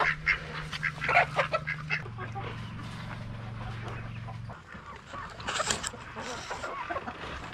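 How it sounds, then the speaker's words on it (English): Ducks quack in bursts amid chickens clucking on a North Carolina farm, close by, with a steady low mechanical hum underneath for the first few seconds. "We got our ducks right here."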